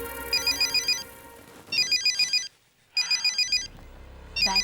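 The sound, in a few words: telephone ringing, a call from the bank manager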